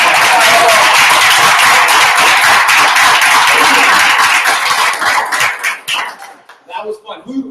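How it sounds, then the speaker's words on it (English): A roomful of people at a Toastmasters club meeting claps in a dense, loud round of applause that carries steadily, then thins into a few scattered claps and fades out near the end. "One big round of applause."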